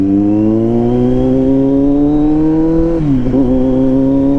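A big bike motorcycle engine idles loudly and steadily up close, its tone slowly rising, then dipping briefly as the throttle blips, with no talking.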